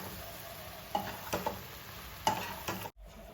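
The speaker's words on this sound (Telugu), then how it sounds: "అన్నీ ఈ విధంగా ఫ్రై అయ్యాక మరమరాలు ఇప్పుడు కలుపుకుందాం." Puffed rice being stirred and fried in a pan for egg fried uggani: soft scraping stir strokes and light crackling at a low level, a few distinct scrapes spread across a few seconds.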